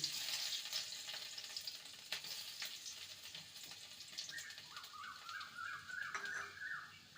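Chopped garlic fries in oil for a stir-fried jute leaf dish, making a faint, steady sizzle with a few stirring knocks, while a high warbling tone rises in the background toward the end.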